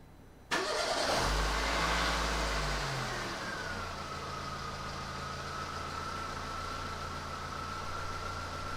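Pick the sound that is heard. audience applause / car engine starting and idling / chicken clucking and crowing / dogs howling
car engine starting and idling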